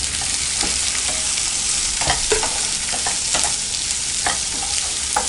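Steady, close sizzling of onions, green chilies and curry leaves frying in a pan, with occasional scrapes and clicks of stirring, no talking.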